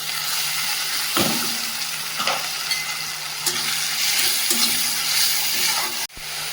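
Onion, ginger, garlic and green chilli paste fries in a pan, a continuous close sizzle broken by several scraping stirs of a utensil.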